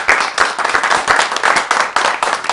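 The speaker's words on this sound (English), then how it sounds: "Let's give George a round of applause, please." An audience at a cooking show applauds the wine steward, a steady, moderately loud wash of many hands clapping with no talk over it.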